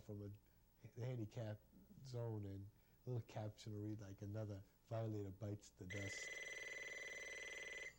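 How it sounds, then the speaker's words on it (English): A telephone rings with a steady electronic trill for the last two seconds, starting just after a voice finishes speaking. "That's my phone."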